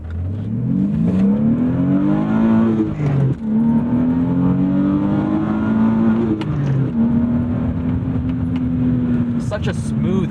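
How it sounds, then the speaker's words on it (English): A 1997 BMW E36 M3 sedan with manual gearbox and S52 inline-six pulls hard under acceleration, its smooth engine note rising steadily through the revs, easing briefly, then climbing again, loud and close throughout. "Now let's give her a pull."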